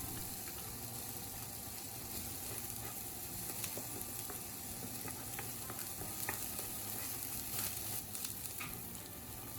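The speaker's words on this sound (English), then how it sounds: "Then add finely chopped onion and sauté until fragrant." Finely chopped onion sautéing in oil in a pan, a faint continuous sizzle with small ticks and crackles throughout, heard alone.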